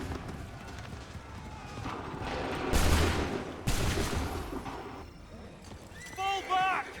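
Musket volley fired by a line of soldiers in Assassin's Creed 3, a loud crackling burst followed moments later by a second one, with shouting and horse sounds around it amid battle ambience.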